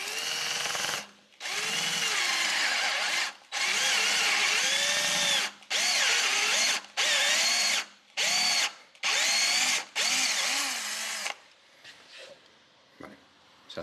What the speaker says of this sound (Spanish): Se taladra, se hace el agujero un poquito más grande